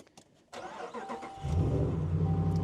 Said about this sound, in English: let's go and start up the Hemi